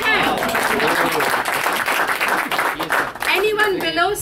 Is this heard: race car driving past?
no